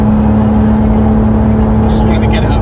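A Porsche 911 GT3's naturally aspirated engine drones loud and steady at high revs from inside the car, a strong constant note with voices faintly underneath.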